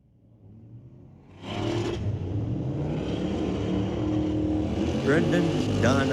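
A 1990 Mustang powers down an eighth-mile drag strip at a street-legal drags night, its engine roaring in loud and steady from a quiet start and holding strong to the end, with a voice talking over it.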